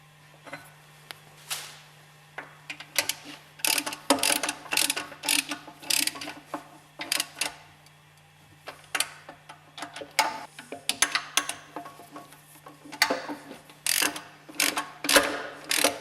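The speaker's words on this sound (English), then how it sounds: "Bolt tight the spindle with the 3 hex head screws." Hex head screws are tightened on the spindle of a Westfalia purifier, giving irregular bursts of metallic ratcheting clicks with short pauses between them, close and clear over a faint low hum.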